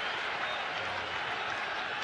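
Ballpark crowd roaring and applauding for pitcher Johnny Cueto during a regular-season game, a dense, loud, unbroken wash of cheering and clapping with a voice heard over it.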